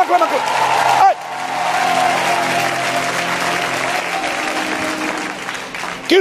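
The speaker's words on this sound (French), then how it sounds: "J'ai dit, acclame." A church congregation bursts into loud, dense applause mixed with cheering voices, sustained for several seconds before tapering off.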